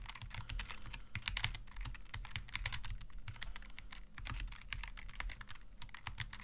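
Typing on a Logitech G915 keyboard, with rapid, steady key clicks up close and no talking, continuing evenly throughout.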